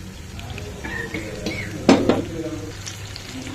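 Masala paste sizzles in a pan of frying mutton curry as a spoon scrapes and stirs, a few sharp clinks against the pot standing out from the steady hiss.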